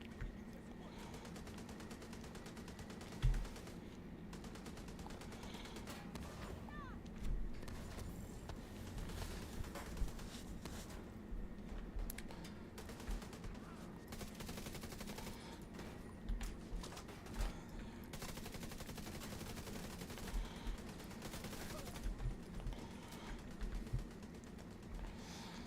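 Steady gunfire while shooting enemies in The Division 2, with dense bursts of automatic fire and scattered single shots over a constant low droning background, with occasional mechanical clicks, continuing for the whole stretch.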